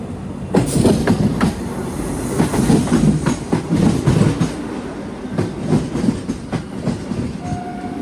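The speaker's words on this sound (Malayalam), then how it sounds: "തിരുവനന്തപുരം കാസർഗോഡ് വന്ദേ ഭാരത് ഇതാ കടന്നു വരികയാണ്." The 20-car Thiruvananthapuram–Kasaragod Vande Bharat train passes near Ernakulam Town station with a close, loud rumble and repeated wheel clatter rolling on for several seconds; a brief tonal note appears near the end.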